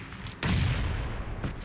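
A grenade blast in PUBG Mobile hits as a single heavy boom that rolls out and decays over about a second, after a short quiet lead-in.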